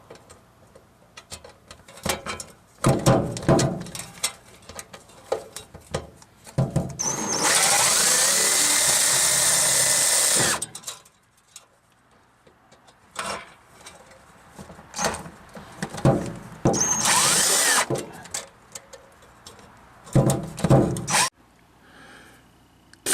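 Cordless power drill driving a screw during an exhaust repair, whirring in two loud bursts of about three and one seconds, separated by clunks, rattles and handling noise.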